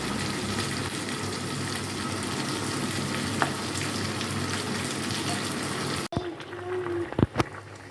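Pointed gourd (potol) pieces frying in a pan give a loud, continuous sizzle for about six seconds, then it cuts off, leaving quieter background noise and a few sharp clatters.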